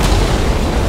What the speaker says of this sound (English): Ah, there's so many explosions.